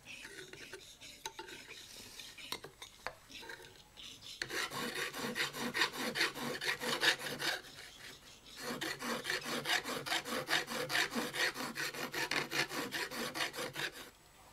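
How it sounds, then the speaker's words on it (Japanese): Traditional woodworking joinery piece smoothed by hand with a rasp file: steady, rhythmic rasping strokes, close and fairly loud, starting after a few seconds of quieter handling and continuing in repeated passes with a brief pause midway. "ヤスリで磨きます。"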